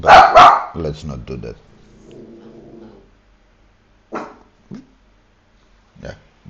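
A dog barks and growls in a few loud bursts at the start, then gives several shorter, separate barks that trail off, while a person talks briefly over the noise.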